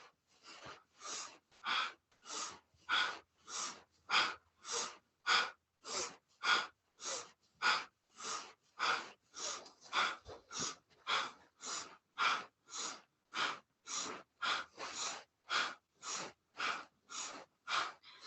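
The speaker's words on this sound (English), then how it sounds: "I want you to listen to your breath on each inhale, each exhale" Slow, deep rhythmic breathing during kundalini yoga spinal twists: roughly thirty steady, evenly spaced breaths, each a soft airy inhale or exhale, close and clear with no talk.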